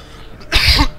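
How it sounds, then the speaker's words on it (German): A single loud, close cough, a short harsh burst followed by a second brief one, with no talking around it. "Diesen kleinen Husteneinsatz."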